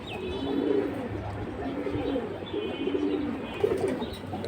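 Pigeons coo softly in repeated low rolling phrases at a bird market, fairly close, over a faint background hum and distant ambient noise.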